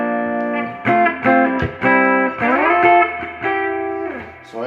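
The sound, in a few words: electric guitar amp spring reverb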